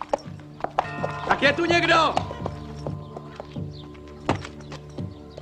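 Horse hooves clop irregularly on a hard surface as the horse stumbles, while someone shouts briefly over them to a blacksmith, with a few sharp knocks and clatters.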